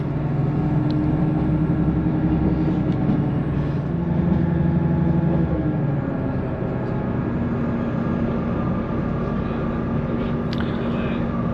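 A train runs on the railway near Ribblehead Viaduct toward Dent station, producing a loud, steady engine and rail rumble with sustained droning tones that shift in pitch partway through.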